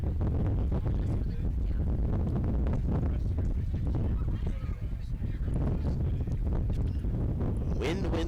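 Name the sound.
wind blowing across a baseball field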